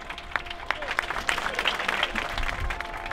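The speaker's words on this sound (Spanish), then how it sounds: "les pediría a todos un fuerte aplauso para todos los veteranos de guerra que están aquí" A crowd applauds war veterans at an open-water swimming commemoration, with distinct claps standing out from a moderate, lively wash of clapping and crowd murmur that lasts about three seconds.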